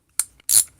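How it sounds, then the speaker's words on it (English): A socket pops off a MasterCraft 3/8-inch ratchet's quick-disconnect: two short metallic clicks close up, the second slightly longer and brighter, with nothing else around them. "It does have the quick disconnect so that you can pop a socket on or off."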